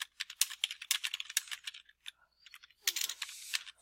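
Quick, crisp clicking of keys typed on a computer keyboard, close and isolated in short bursts with brief pauses and a final flurry.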